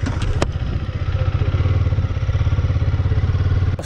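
A Husqvarna Svartpilen 250 single-cylinder motorcycle idles close by, its exhaust giving a steady, rapid thumping pulse with a couple of sharp clicks over it.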